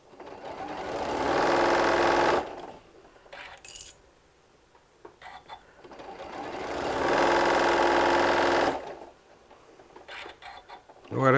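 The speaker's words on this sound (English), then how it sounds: "have an opening so we can sew all the way across on this one" A sewing machine stitches across thick layers of a walker bag in two long, steady runs of rapid mechanical whirring, close by, separated by quieter pauses with handling noises.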